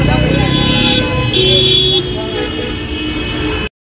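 Heavy city street traffic in Delhi, a dense roar of engines and motorbikes with repeated horn toots and honks, loud and close, while a voice talks over it before the sound cuts off abruptly.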